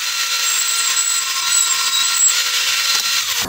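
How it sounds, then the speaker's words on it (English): A homemade portable bandsaw stand cutting a metal bar stock at an 8 inch mark for a lawn edger handle, a steady loud grinding whine held throughout before stopping abruptly at the end. "Now I'm just gonna cut it off with my portable bandsaw stand that I made."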